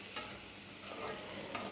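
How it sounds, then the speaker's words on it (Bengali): Barkoti fries in a covered pan, giving a soft, steady sizzle with a few faint scrapes of stirring. It is quiet and close, with no talk over it. "তো দেখেন ফাইনালি আমার বরকটি ভাজা শেষ হয়ে যাচ্ছে।"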